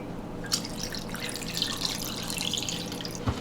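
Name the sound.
water being added to an Instant Pot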